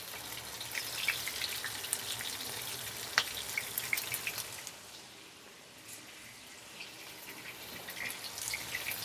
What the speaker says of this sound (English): we are going to place our tomatoes into the pan, cut side down, laying them flat.